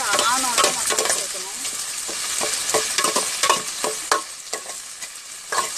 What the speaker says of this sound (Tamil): தக்காளி நல்லா எண்ணெயில் நல்லா வதங்கி நல்லா ஜூஸு ஆனோம்